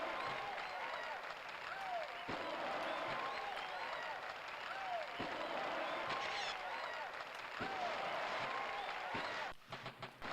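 A crowd cheering in the Tony Hawk's Pro Skater video game, a steady wash of applause and cheers with a few sharp clacks, fairly faint, cutting out abruptly near the end.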